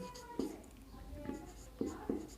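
Chalk or marker scratching on a board during a chemistry lesson, several short taps and strokes close by, with faint murmuring voices in the background.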